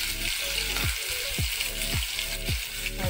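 Onion and garlic frying in a pan give a loud, continuous close-up sizzle that holds steady throughout, with no talking over it.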